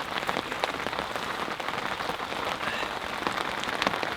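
Heavy winter rain pours down at a carp fishing lake, a dense, constant patter of drops close by with scattered louder splats, no talking.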